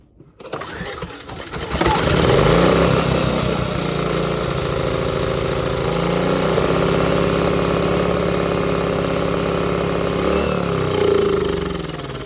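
A Pulsar PG2300iS portable generator engine, partly disassembled after a carburetor replacement, starts up and settles into a steady, loud mid-pitched running drone that holds evenly for about ten seconds before easing slightly.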